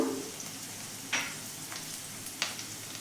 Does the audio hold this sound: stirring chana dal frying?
yes